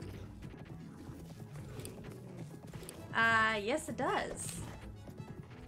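Horse hooves clip-clopping in Zelda: Breath of the Wild, a steady trotting rhythm under game music, with a player talking and a horse whinny rising near the end.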